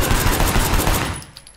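Rapid automatic gunfire in the video game Sleeping Dogs rattles out loud and close in a fast burst, then cuts off and leaves a fading tail.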